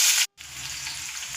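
Onion tipped into hot oil with mustard seeds and cumin in a frying pan sizzles loudly and steadily, breaking off briefly before a softer, continuous frying crackle returns, with no talk.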